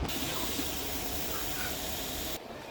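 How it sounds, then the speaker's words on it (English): Frozen cut green beans steam in a small skillet on a stovetop, giving a loud, steady hiss and spray that runs unbroken before dropping off sharply near the end. "I'm just going to steam them in this little skillet on the stove."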